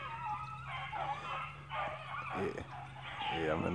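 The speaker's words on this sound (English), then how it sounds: "I was out here running my dogs" Beagles running rabbits in a swamp bay and yip at a distance, with howling, drawn-out calls rising over a person talking nearby.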